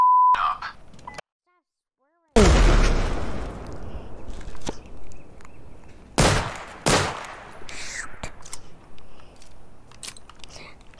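Gunfire and a grenade in the VR shooter Zero Caliber VR, with a burst and a sudden loud blast after a brief silence, then several sharp shots and scattered clicks, close and punchy.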